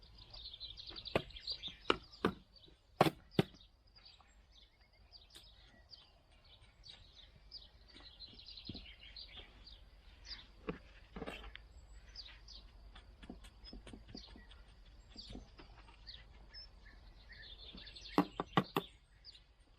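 Birds chirp sporadically outdoors over a newly grown lawn in a desert yard, faint calls scattered among a few sharp knocks against a quiet background.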